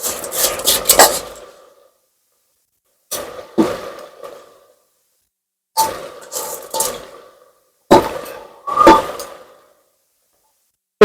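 A tomato chopped with a knife, sharp close taps on a board in four short bursts of several quick strokes each, separated by pauses of silence.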